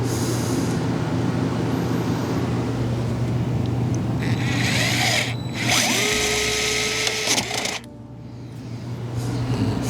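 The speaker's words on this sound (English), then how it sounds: "there's just some final screws to put in down here that'll hold this thing in place" Power drill driving final screws to mount an Airstream TV, whining in several loud bursts with pitch changes as each screw seats, over a constant low background hum, then stopping near the end.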